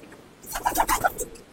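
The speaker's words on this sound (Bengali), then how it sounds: "এটা গ্রিজেল, এটা রেসিং পায়রা।" A grizzle racing homer pigeon in a loft gives a short, soft burst of cooing, a few throaty notes in quick succession, close by and clear against quiet background.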